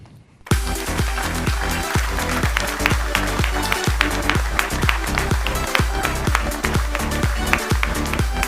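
An audience at a digital awards ceremony bursts into applause for the grand prize winner, loud sustained clapping with sharp individual claps that stays strong throughout.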